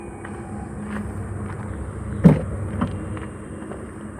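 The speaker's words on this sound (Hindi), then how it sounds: "गाड़ी को बंद कर देता हूँ, बूट स्पेस दिखा देता हूँ एक बार इसका आपको।" A Kia Sonet HTE base model 2022 has a car door shut with a single solid thump, followed shortly by a softer latch click as the boot is opened, against a low steady background hum.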